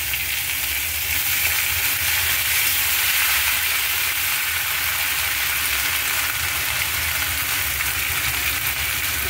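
Ginger paste and turmeric fry in a little oil for a stuffed pointed gourd dish, giving a steady, loud, close sizzle with a broad hiss that holds without a break and no voices over it.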